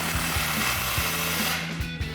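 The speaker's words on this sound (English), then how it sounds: "go back to your flange here and take a 15mm socket to tighten down your clamp." A 15mm socket on a ratchet or power tool tightening an exhaust clamp on a 2004-2008 Ford F-150 dual exhaust, heard as a loud, continuous mechanical whir with a rhythmic low pulsing, close by and without speech.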